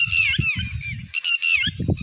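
White ducks at a lake in Mitki, Sangli district, give loud, close, goose-like honks in quick repeated bursts, with a short pause partway through.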